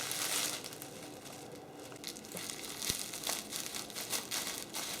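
Gift basket wrapping crinkles and rustles steadily as it is cut down, a continuous close crackle with a few sharper snaps.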